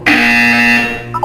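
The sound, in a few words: buzzer in the video game Portal 2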